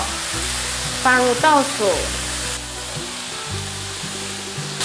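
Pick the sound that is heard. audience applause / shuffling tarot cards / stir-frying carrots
stir-frying carrots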